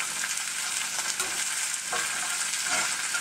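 Spinach frying in a pan for an omelet gives a loud, continuous close sizzle, with a few soft stirring scrapes as the leaves are tossed about.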